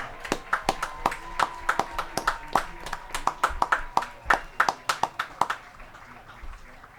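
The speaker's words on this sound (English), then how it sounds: "Ladies and gentlemen, one big round of applause for all our seniors" Scattered hand claps at a high school football senior night honouring seniors, band members and cheerleaders, about two dozen distinct claps over several seconds, fairly near and uneven, tapering off at the end.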